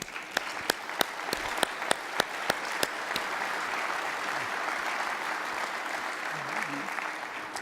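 A ceremonial audience honoring a retired general breaks into sustained applause, steady dense clapping with a few sharp individual claps standing out near the front.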